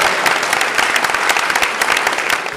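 Loud, dense applause from the audience at the Miss Regensburg 2018 beauty contest, a continuous wash of close clapping lasting a few seconds with no voices over it.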